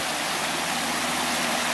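A spring that feeds Wahkeena Creek, coming out of a wooded hillside, gives a steady broadband rush of flowing water, loud and unbroken throughout with no voices.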